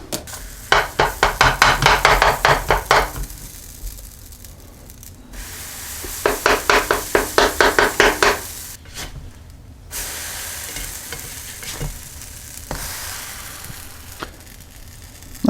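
Potato pancakes frying in a pan give a steady hiss and sizzle throughout, broken by two loud stretches of rapid, rhythmic tapping or scraping bursts, with a few softer clicks between.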